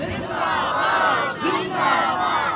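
A crowd at a religious gathering chants a slogan in unison, two loud sustained group shouts with a brief dip between them, voices rising together in a rhythmic call.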